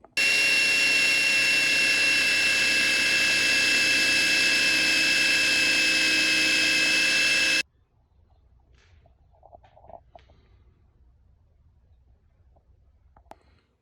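A battery-powered wire wheel scrubs a raw steel frame from a 2000 Yamaha YZ250 motorcycle with a loud, steady whining buzz for about seven seconds, then stops abruptly, leaving faint clicks and handling noises.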